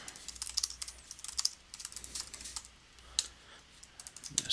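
An address is typed on a computer keyboard in a quick, uneven run of close, crisp key clicks with short pauses between bursts.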